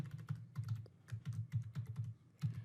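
Rapid keystrokes on a computer keyboard as a password is entered, a quick irregular run of close, crisp clicks in small bursts with short pauses and no voices.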